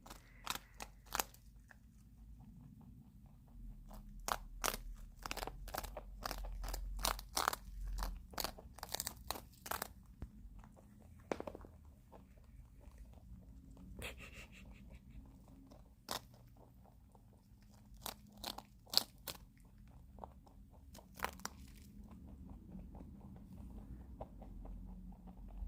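Pet rabbits crunching and chewing their breakfast close up, a steady run of sharp, brittle bites and munching clicks with short pauses between bursts.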